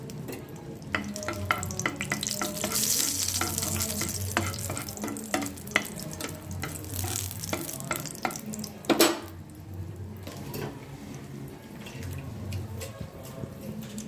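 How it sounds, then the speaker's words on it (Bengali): Green chilies fry in a little hot oil in a heated kadai, giving a steady, close sizzle with scraping and clinking stirring noises throughout and no talking. "এর মধ্যে তেলের মধ্যে লঙ্কাগুলো দিয়ে দিলাম"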